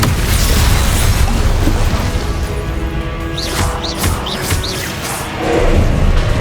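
Fire spell blasts booming and crackling in close succession during a chaotic magic duel in Hogwarts Legacy, dense and loud throughout with bright chirping spell effects layered on top.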